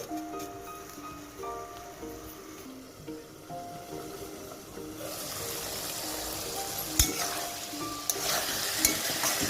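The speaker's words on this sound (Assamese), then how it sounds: "আৰু 10 মিনিটমান পিছত এবাৰ এনেদৰে লাৰি দিছো" A dried sea fish curry stirred in a pan, starting quietly under faint background tones, then turning to louder bubbling sizzle with a few sharp spoon knocks toward the end.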